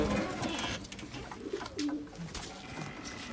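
Adana pigeons are let loose, and soft cooing and pigeon calls sound against a busy, noisy outdoor background of rustling and handling, heard close for a few seconds.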